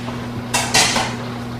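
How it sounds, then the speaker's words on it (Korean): Two quick metallic clanks, a mixing bowl settling onto a stand mixer, over a steady low electrical hum. "믹싱볼을 믹서에 장착하고 휘퍼를 회전축에 건 후에"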